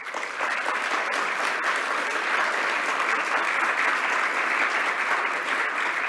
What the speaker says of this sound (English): Big applause for Stephen.